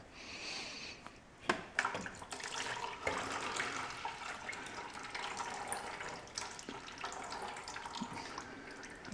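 Coolant drains from the bottom radiator hose of a Polaris Ranger, a faint, continuous trickle and splash of liquid marked by a few small knocks.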